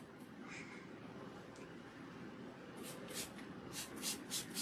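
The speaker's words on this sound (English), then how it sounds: "Spray the hair." A spray bottle mists hair during a protein deep treatment, first in a couple of faint spritzes and then in a quick run of short bursts near the end, with low rustling in between.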